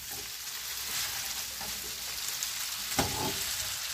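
Pork intestines stir-fried with turmeric in a pan sizzle steadily and loudly up close, with a few scraping stirs breaking through the constant frying hiss.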